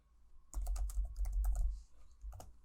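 Code being typed on a computer keyboard: a rapid run of close, crisp key clicks lasting a couple of seconds, then a brief pause and a few final taps, with no talking.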